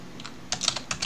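A short run of crisp keystrokes on a computer keyboard as a terminal command is entered, a few quick taps close and fairly quiet with no one speaking.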